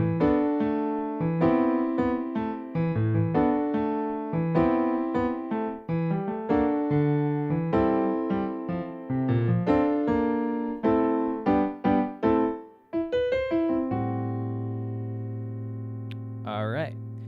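Solo piano plays the intro of a jazz tune, a busy rhythmic run of chords and bass notes for about fourteen seconds before settling on a held, ringing chord; clear and alone.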